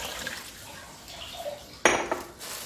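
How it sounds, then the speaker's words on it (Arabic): Water poured from cups into a pot in a kitchen while making a frozen-raspberry dish, a brief splash and clatter of liquid against metal, faint and close, with light kitchen handling sounds around it. "وغنزيد معها 3 ديال الكيسان ديال الماء"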